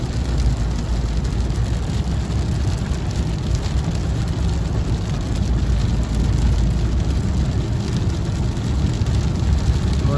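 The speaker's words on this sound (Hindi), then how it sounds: "बारिश बहुत ज़्यादा तेज़ हो गई है," Heavy rain pours steadily on a car during a journey, a loud, dense, unbroken hiss of drops drumming on the roof and glass that carries on the whole time without letting up.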